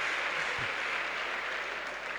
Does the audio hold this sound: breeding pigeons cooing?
no